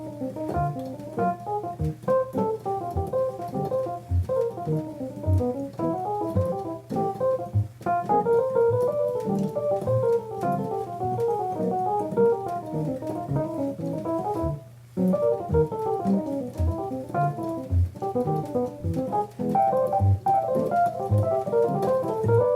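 A solo improvised line moves in half steps through changing chord qualities, notes flowing in a steady stream of phrases with brief pauses.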